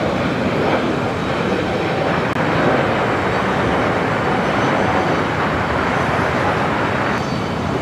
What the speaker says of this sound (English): Flight 802 with United coming in from Hong Kong in a 787-9 Dreamliner